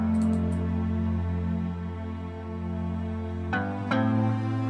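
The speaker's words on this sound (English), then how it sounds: "And then added a string, and it sounds like this." A string instrument part in an Afro House track produced in FL Studio: sustained, layered tonal notes hold steadily, then sharp percussive hits land near the end, loud and continuous with no voices.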